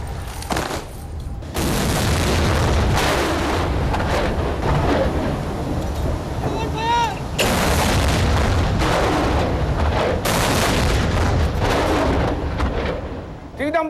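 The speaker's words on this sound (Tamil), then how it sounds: "இதன் பின்னர் ஜனாதிபதிக்கு கௌரவம் அளிக்கும் வகையில் துப்பாக்கி வேட்டுக்கள் தீர்க்கப்பட்டன." Ceremonial gun salute fired in honour of the president at an official state event, with several loud booming volleys over crowd noise and a steady roar of background activity.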